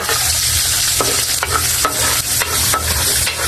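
Garlic sautéing in a hot pan for sardines with chayote: a close, continuous sizzle with several distinct scraping stirs at a regular pace, and no talking.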